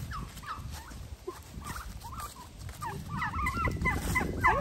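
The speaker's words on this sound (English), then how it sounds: "Let's go see the turkeys." Several turkeys call nearby at a pumpkin patch in warbling, wavering yelps and gobbles, scattered and overlapping, growing busier toward the end over a low outdoor rumble.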